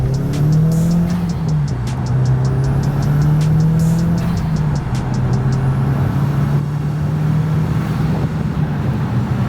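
A Mk1 Audi TT 225 (8N) drives along with a steady, loud engine drone that dips and rises slightly with throttle, plus light ticking clicks early on and no voices.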